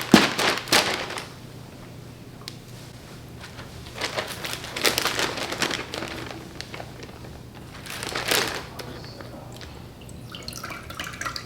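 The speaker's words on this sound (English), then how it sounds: "we're just gonna get these gizzards transferred into this bag here" Raw chicken gizzards are tipped into a plastic bag, giving bursts of crinkling and wet shuffling in several short clusters with quieter pauses between, close up and without talk.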